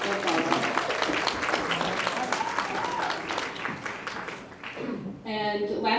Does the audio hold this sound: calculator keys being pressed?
no